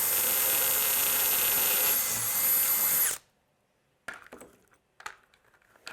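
A power drill drives a screw while a robot battery is mounted, whining loud and steady for about three seconds and then stopping. Brief clicks and handling noises follow.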